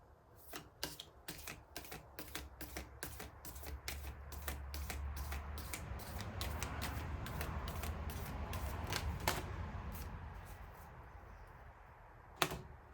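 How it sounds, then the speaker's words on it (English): A deck of cards being shuffled, a rapid run of sharp riffling clicks that builds into a dense flutter before a final snap, close and quiet in a calm room. "I'll shuffle the cards one more time."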